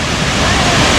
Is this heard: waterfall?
yes